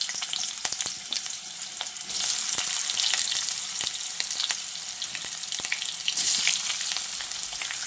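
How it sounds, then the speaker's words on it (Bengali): Potatoes frying in oil in a wok, a steady close sizzle with occasional scraping stirs throughout. "এবার আমি আলুগুলোকে দিয়ে একটু লালচে করে ভেজে নেব।"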